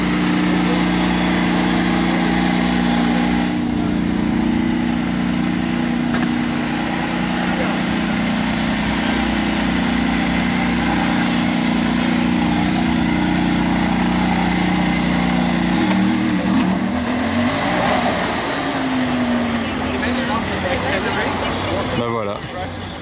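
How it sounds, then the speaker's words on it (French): A Mercedes-AMG ONE with a Formula 1-derived engine idles steadily for a long stretch with a smooth, even drone, then shifts and pulls away as the tone changes near the end, with someone speaking over it. "je suis un peu déçu du bruit de cette voiture, sachant que c'est un moteur de Formule 1"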